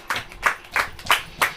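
A church congregation claps hands together in five evenly spaced bursts, each crisp and fairly loud, with short gaps between them and no talking.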